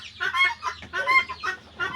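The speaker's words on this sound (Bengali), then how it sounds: "এই জায়গায় আমার কিছু মুরগি আছে, দেশি মুরগি আছে, ডিম দিচ্ছে।" Desi laying hens cluck on a farm pen in Bagha, Rajshahi, with a steady run of soft, rhythmic clucks in repeated short bursts at moderate distance.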